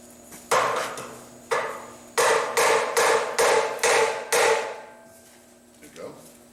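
Heavy hammer blows knocking parts loose on a Quincy 5120 compressor during salvage work, about seven loud metallic strikes in an uneven rhythm, close and ringing, followed by quieter clatter.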